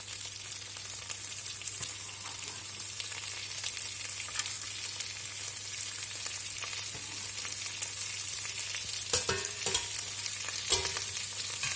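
Diced carrot sizzles steadily in a hot pan, a continuous bright hiss that runs the whole time, with a few faint scrapes and clicks near the end and no voices.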